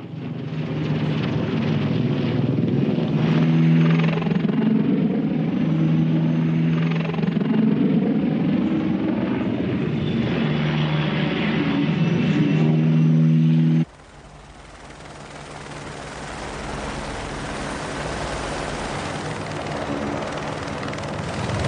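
Military attack helicopters fly low over the ground, a loud, continuous rotor and engine roar with pulsing blade beats that suddenly drops to a quieter, more distant rumble.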